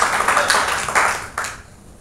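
A church congregation applauds in a hall, producing a dense wash of clapping that swells in a few waves and then fades out toward the end.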